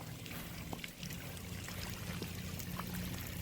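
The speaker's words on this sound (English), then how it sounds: "Look at the awesome water features in this home." A backyard water feature at a home in The Villages, Florida trickles and splashes steadily, a soft continuous wash of falling water filling the quiet outdoor air with no voices.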